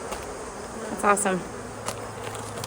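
Honey bees at an opened hive during an inspection, with a low continuous buzz underneath, brief louder buzzing as bees fly close by, and a short spoken remark.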